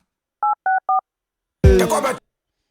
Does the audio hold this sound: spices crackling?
no